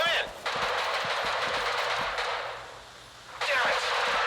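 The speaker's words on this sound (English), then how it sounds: "Is that gunfire over there?" Sustained rapid gunfire in the video game Stalker 2: Heart of Chernobyl crackles loudly throughout, with a brief lull partway through before the bursts resume, dense with no voices.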